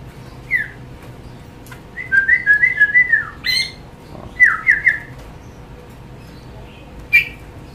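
A samyong bird sings nearby in clear, loud bursts of rapid whistled trills and squawky notes, separated by short pauses over a quiet background hum.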